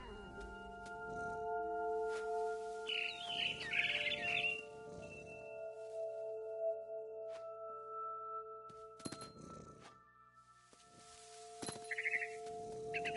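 A frightened barn swallow in the video game What Remains of Edith Finch gives a few short, bright chirps, first a cluster near the middle and another brief burst near the end, over steady low ambient tones.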